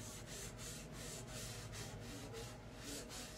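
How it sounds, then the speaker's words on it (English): Dry sponge rubbed back and forth over a painted silver-plated plate to seal it, a faint, soft scratchy swishing repeated in a steady rhythm of quick strokes. "So I use a sponge and it's dry and I just go over it to seal it"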